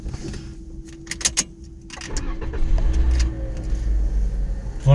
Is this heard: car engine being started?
yes